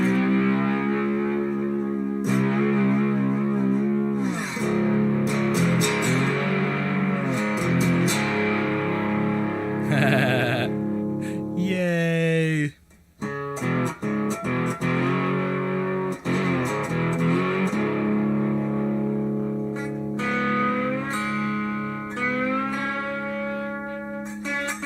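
Overdriven electric guitar through an amp's drive circuit playing chords and melodic lines with a gritty, saturated tone and roomy reverb from the amp's internal reverb, loud and continuous with a brief gap midway.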